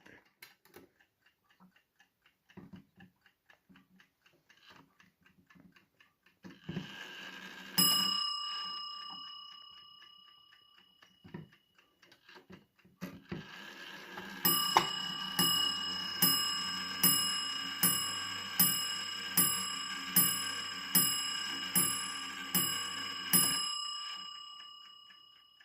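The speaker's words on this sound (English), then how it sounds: "it also strikes the hours and half hours on a bell mounted below the case" A 1910 Junghans carriage clock strikes the hour on a bell mounted below its case: a single early chime, then a run of about ten evenly spaced, ringing strokes, each decaying before the next, over faint ticking.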